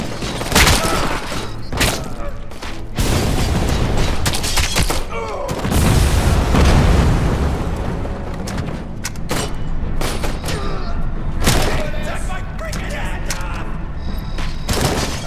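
Gunfire in the game Robocop: Rogue City on hard difficulty: loud, close bursts of shots and heavy booming impacts repeat throughout, with a strong blast around the middle.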